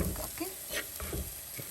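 Cooked squid tossed into a hot pan for a stir-fry, giving a steady sizzle with scraping stirring strokes and light clinks, close and fairly quiet, with a voice briefly audible.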